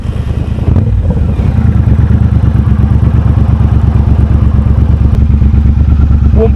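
A motorcycle ridden normally through a run of roundabouts, its engine droning loud and steady close by with a fast pulsing throb and heavy wind rumble throughout.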